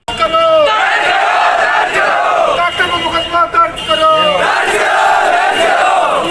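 A crowd of supporters shouting slogans together at a city police station during a protest over injustice: loud, rhythmic chanted cries in repeated bursts with brief dips between, voices overlapping.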